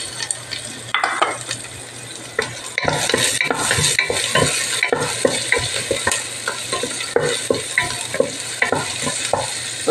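Garlic sizzles and fries in a pan for pork sinigang while a utensil stirs it, with a constant hiss broken by repeated scraping taps against the pan, close and steady, no voices.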